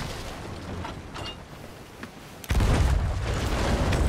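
Video game cannon fire between ships at sea: a heavy booming blast hits midway, followed by a sustained loud rumble after a stretch of quieter background noise.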